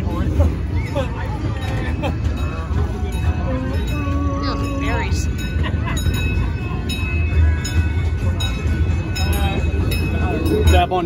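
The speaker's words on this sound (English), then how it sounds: "We are on a train and we are moving." Constant rumble and rattle of a moving train carriage, with metallic clinks and a murmur of voices over the steady rolling noise.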